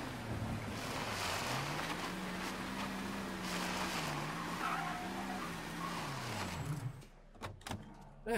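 Engine of a slow classic car droning steadily in Mafia 3, its pitch rising and falling as it drives, then cutting out near the end with a few clunks.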